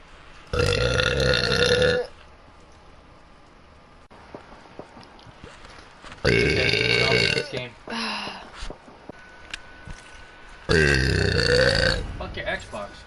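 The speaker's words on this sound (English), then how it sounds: "That's a burp for a good match." A woman gaming on Xbox lets out three long, loud, croaky burps, each lasting over a second, with quieter gaps and small sounds between them.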